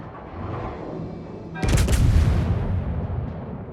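Heavy naval guns firing in a World of Warships battle aboard the battleship Oktyabrskaya Revolutsiya, a single loud booming salvo that erupts after a quiet stretch and rolls away over about two seconds.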